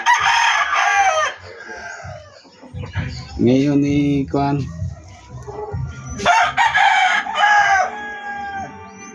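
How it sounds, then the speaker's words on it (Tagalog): A young gray hatch rooster, five months old, crows loudly nearby twice, a long harmonic call at the start and again near the end, with someone speaking briefly between the crows. "Bagong bilhin nating manok."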